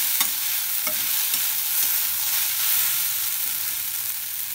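Poha stirred and mixed in a frying pan with lemon juice, giving a steady close scraping and rustling sizzle with a few light utensil taps and no talking.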